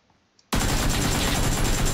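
Sustained rapid automatic gunfire from a video game bursts in loudly after a short quiet moment and continues without pause.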